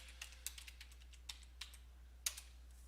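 A MySQL root password is typed on a computer keyboard as a quiet, scattered run of single keystrokes with uneven gaps, faint and close in a still room.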